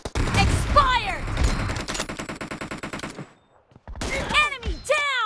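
Rapid bursts of gunfire from an M24 sniper rifle in a video game crack loudly and close, mixed with game effects and a brief pause before more shots.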